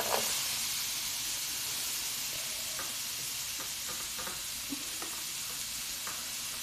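Onions sizzling in a dry pan with no oil in a home kitchen, a steady close hiss of frying with occasional soft taps and stirring scrapes, no voices.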